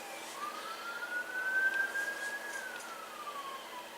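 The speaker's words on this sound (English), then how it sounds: "Sounds like police." A police siren passes outside, a faint, distant rising and falling wail that swells in the middle and then fades, with no voices over it.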